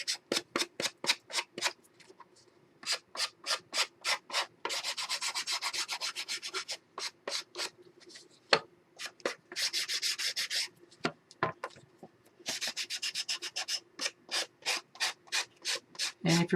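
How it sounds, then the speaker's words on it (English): Electric sander working the paper edges of a Christmas collage mini album, heard as repeated short rasping bursts in a steady rhythm with a few longer continuous runs, close and clear with no talking. "I have a sander. Oh, there it is right in front of me. So I'm just going to sand these edges."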